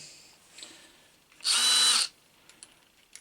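A DeWalt drill with a jammed keyless chuck whirs loudly for about half a second in one close burst, with faint clicks and handling noise before and after.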